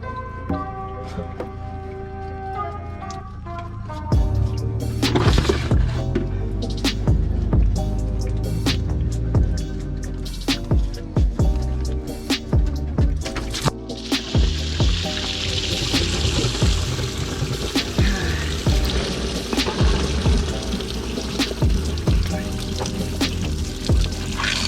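Fluid from a pulled hose on a 7.3 IDI diesel in an OBS Ford truck drains into a bucket, first sporadic drips and clunks, then a steady close splashing pour with intermittent knocks.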